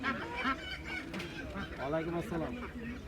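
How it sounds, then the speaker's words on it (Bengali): A rooster sold at a poultry stall in Meradia village market calls out with harsh, honking crows amid surrounding fowl and the bustle of a crowded market, with voices talking nearby. "এখানে এই যে মোরগ বিক্রি হচ্ছে"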